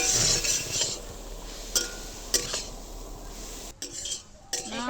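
Carrots frying and being stirred in a pan for gajar halwa, with close utensil scrapes and clinks against the metal pan over a low background hiss, pausing briefly near the end.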